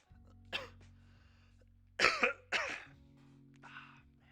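A man coughs indoors in a quiet room with a low electrical hum: one short cough, then a pair of harsh, throaty coughs in quick succession a moment later, and a softer throat-clearing cough at the end.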